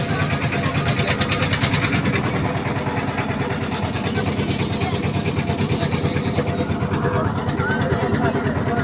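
A trawler boat engine at Jaflong zero point in Sylhet chugs steadily and close, a continuous rhythmic throb, with faint voices in the background.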